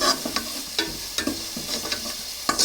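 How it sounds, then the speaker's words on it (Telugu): Fresh ginger-garlic paste fries in a pan for a village-style fish curry, a soft steady sizzle broken by several sharp scraping stirs of a spatula at irregular intervals, close and with no talking. "పచ్చివాసన పోయేటట్టు బాగా ఫ్రై చేయండి"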